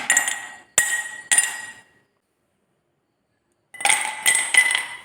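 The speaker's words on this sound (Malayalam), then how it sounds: "ഗ്ലാസ്സിലേക്ക് ഐസ് ക്യൂബ്സ് ഇട്ട് കൊടുക്കാം" Three sharp clinks of ice cubes hitting a glass of ABC juice in quick succession, a pause of silence, then another cluster of rattling clinks, close and fairly loud.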